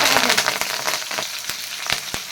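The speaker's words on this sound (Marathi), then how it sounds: "कढीपत्ता सुद्धा एक मिनिटभर तळून घ्यायचा आहे" Curry leaves fry in oil for homemade chivda masala, giving a close hissing sizzle with a few sharp crackles and pops scattered through a short, fairly loud stretch without talk.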